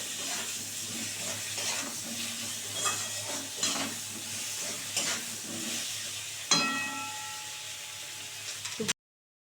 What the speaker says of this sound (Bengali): এবার পেঁয়াজটা দিয়ে দিই। পেঁয়াজটা ভালো করে একটু ভেজে নেব।